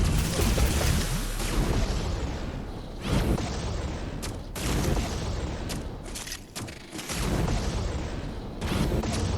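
Gunfire in the video game Dolmen comes as a series of loud, heavy booming shots and blasts, several in a row with short gaps and a rumbling tail, with no talk over them.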